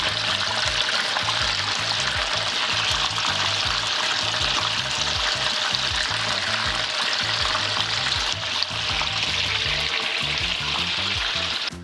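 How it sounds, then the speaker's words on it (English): Korean fried chicken crackling and sizzling steadily in hot oil during its second fry, a loud, dense, continuous bubbling that never lets up. "we're gonna let this fry for about 8 to 10 minutes"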